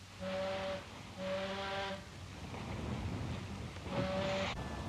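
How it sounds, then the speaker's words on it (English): Ship's steam whistle sounds three loud blasts, a long pair followed after a pause by a third, with wind and sea noise rumbling steadily underneath, aboard a wartime vessel at sea. "By all means, Mr. Rogers, give them 3 cheers on the whistle."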